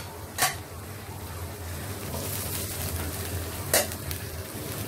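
Onion, garlic and ginger paste stirred in a pot during home cooking: a couple of sharp utensil clinks against the pot over a steady low kitchen hiss.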